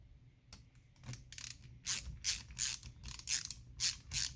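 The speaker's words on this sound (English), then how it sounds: "I'll just use my hand socket here." A hand socket ratchet tightening a bolt on a McCulloch SP81 chainsaw during assembly, heard as a close series of rapid clicking bursts in steady back-and-forth strokes, with no talk.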